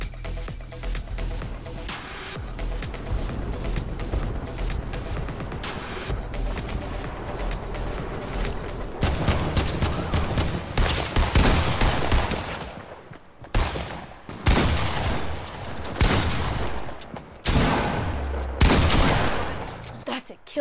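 Rapid bursts of gunfire from the video game Fortnite, season 8, dense and loud, with heavier volleys in the second half and no pauses in the firing.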